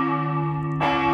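Church bells ring at the church of Ciseriis in Tarcento, calling the faithful to a service, with sustained resonant tones and a fresh strike near the end, loud and steady without talking.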